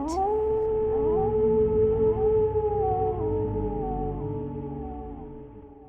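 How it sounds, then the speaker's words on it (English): Layered, sustained howling voices with long wavering tones rise and fall together, loud and continuous throughout, with no talk, set on a snowy winter night near Santa's workshop. "Krampus was greeted by howling into the night."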